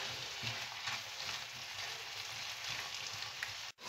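Fideuà noodles go into a pan with squid and chicken and get stirred, giving a steady, close sizzle of frying with soft scraping and stirring throughout, ending in a brief sharp knock.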